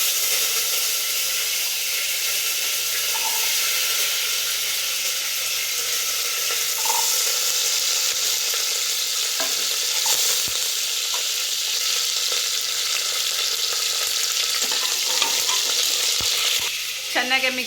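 Curry leaves and small sambar onions fry in hot oil with mustard seeds for the tempering of a drumstick and ridge gourd sambar. A loud, continuous sizzle runs throughout, with occasional stirring clicks and no talking.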